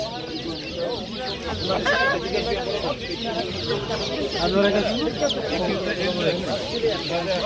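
A crowd of roosters clucks and squawks at an outdoor Uzbek poultry market, constant close bird chatter under a voice and general bazaar bustle.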